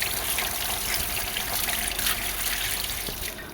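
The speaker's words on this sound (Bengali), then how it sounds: "চলো মাছগুলোকে ধুয়ে নেই" Tap water runs steadily while hilsa fish are washed in a village kitchen, a continuous close splashing trickle with no talk over it.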